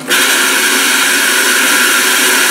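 Samodra bidet attachment switched on, its water jet starting abruptly into a loud, steady hissing spray that continues without pause, close by and with no voices.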